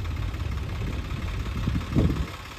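A Swaraj tractor engine runs steadily while the tractor is hauled out of a flooding river with a JCB. The rumble is continuous and close, with a brief louder surge near the end and no speech.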